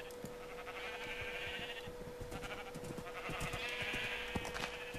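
Sheep in Minecraft bleat twice, each call a drawn-out wavering cry lasting a second or more. The calls sound fairly faint over steady background game noise and clicks.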